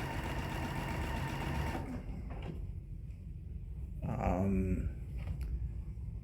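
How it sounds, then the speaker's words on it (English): Sewing machine stitching a 1/4 inch seam on a fabric Clippy Bag, a steady close mechanical hum for about two seconds, then lighter intermittent stitching bursts with handling noise. "I'm just going to refold right sides together and do my 1/4 inch seam down one side"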